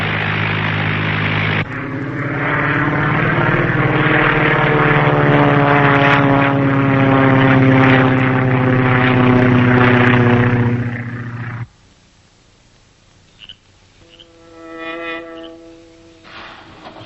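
A 1940s propeller-driven airplane drones loudly and steadily overhead for about ten seconds with a strong engine hum, then cuts away to a quieter scene with a faint fluctuating tone.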